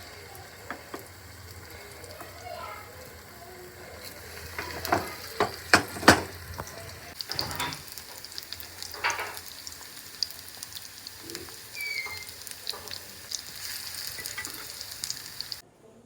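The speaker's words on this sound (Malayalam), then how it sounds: "നല്ല നെയ്യ് ആഡ് ചെയ്ത് കൊടുത്തിട്ട് അതിലാണ് ഞാനൊരു പഴം വാട്ടിയെടുക്കുന്നത്" Banana slices frying in ghee, a steady soft sizzle running throughout, with a few sharper spatters and utensil clicks near the middle before it settles back into an even crackle.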